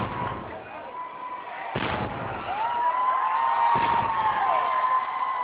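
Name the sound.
21-gun cannon salute for royal baby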